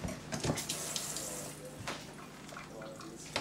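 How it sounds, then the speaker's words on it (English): A splash of water poured into a sauce in a kitchen, a steady close rush of running water lasting a few seconds over background hum. "Adding a little water to it."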